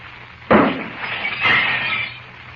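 A glass pitcher shatters in a radio drama sound effect: a sharp crash bursts out, then a second smashing burst follows with a scattering, tinkling tail of fragments, loud and close with no talk.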